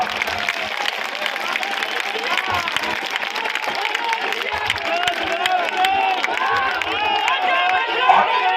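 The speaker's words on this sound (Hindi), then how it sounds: "एक बार पीछे से लेकर वहां तक सब लोग एक साथ ताली बजाइए" A large crowd at a political rally claps together in a sustained wave of applause, dense and steady, with a few cheers rising near the end.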